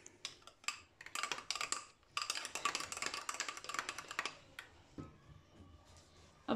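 A spoon scrapes and clinks rapidly around a bowl while mixing risen pizza dough, bursts of irregular knocks and scrapes with brief pauses, close and fairly quiet.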